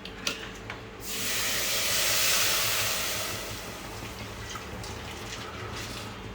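Milk poured straight into a hot ghee-greased pan for kheer bursts into a loud steady hiss that swells for about two seconds, then slowly fades to a soft simmer.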